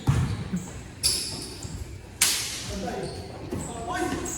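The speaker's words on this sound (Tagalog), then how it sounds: "Malakas ang talbog niyan." A ball bounces hard with two sharp, loud smacks a little over a second apart, heard among lively voices and chatter at a community gathering.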